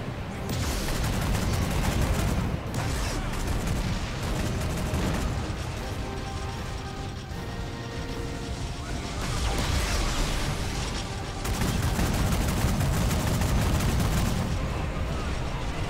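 Heavy autocannon fire in a Warhammer 40k video game, dense booming bursts and rattling volleys layered with loud battle noise and a game soundtrack, continuous throughout.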